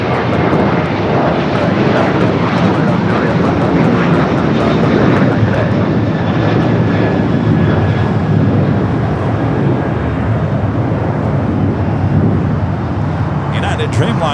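United Dreamliner airliner taxiing at LAX, a loud, continuous jet engine roar and whine close by, steady throughout with no speech.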